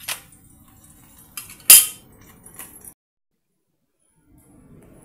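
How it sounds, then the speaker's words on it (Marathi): A cooked methi thepla flatbread set down onto a plate, giving a few sharp clinks and scrapes of utensil against dish, one louder clink standing out, close and clear before the sounds fall silent. "मी आता याला एका प्लेटमध्ये काढून घेते."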